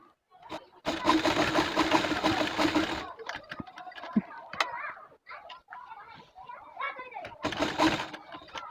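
An ordinary household sewing machine stitches around a buttonhole, running in a rapid mechanical burst of about two seconds, then a spoken explanation, then another short burst of stitching.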